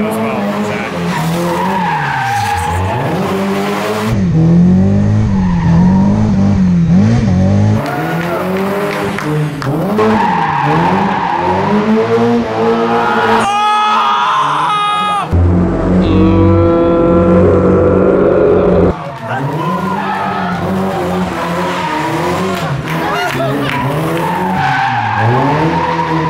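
Miata-powered go-kart skidding and squealing its tires, the engine wailing and revving through repeated slides, loud and close for the whole stretch with rising and falling pitch.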